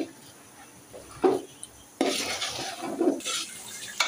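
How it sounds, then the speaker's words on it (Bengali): Rice is stirred and fried in a pot with spices and oil for a winter vegetable khichuri, heard as intermittent close scraping and rasping bursts of a spoon against the pot, with quieter pauses between strokes. "চালটা ভাজা হয়ে গেছে"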